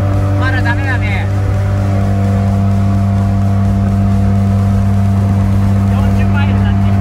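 An RX-7 car engine drones steadily with a low, constant hum and wind rush, heard from inside the car while driving in Texas; brief faint voices appear near the start and end.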